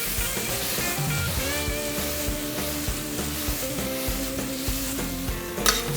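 Shrimp and colourful vegetables stir-fried with basil sizzle in a pan as they are tossed, a constant hiss with soft stirring scrapes over background music and a brief clatter near the end.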